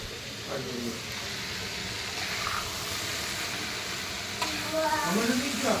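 Mushroom curry with cumin powder fries and is stirred in a pan, a steady sizzling hiss with occasional scraping, while voices talk faintly in the background.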